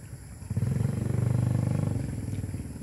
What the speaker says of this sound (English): There's a guy on a motorbike there.